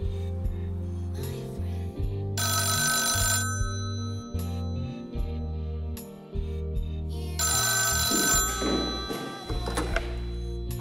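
An old-style telephone rings in two long electronic bursts separated by a pause, heard close and clear over a soft underlying musical score.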